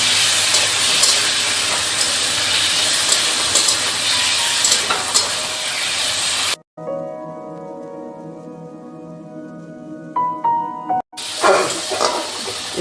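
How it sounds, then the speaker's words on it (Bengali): Hot water is poured into mustard paste frying in a pan for a tilapia curry, giving a loud, close hiss and sizzle that cuts off abruptly, then a quieter gap, then short bursts of sizzling return. "এবার আমি এটা গরম জলটা দিয়ে দিলাম, বেশি ভাজবো না।"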